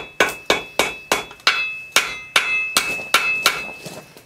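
Hot steel is forged into a primitive adze with a hammer, about ten sharp ringing blows at a steady, slightly uneven rhythm, loud and close, with no voices.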